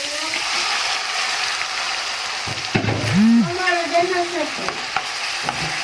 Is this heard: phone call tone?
no